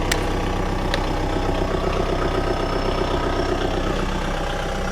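A Kubota 55HP tractor engine runs at a steady idle after starting, a close, even diesel chug that holds without a break, with a couple of faint clicks near the start and no voices.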